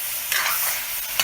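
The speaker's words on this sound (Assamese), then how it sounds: "জুইৰ তাপটো যিমান হয় আৰু তেনেকৈ হিচাপ এটা কৰি মাজে মাজে এয়া লৰাই দিছোঁ" Goat meat stirred in a pan over a village wood fire, a steady close scraping and sizzling with two brief sharper clinks of the spoon against the pan.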